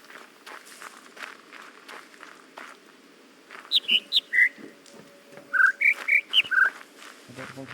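Bird song in the video game The Witness: a run of short, bright chirps and whistled notes in two clustered bursts, fairly close and distinct above a quiet ambient bed, with a low hum near the end.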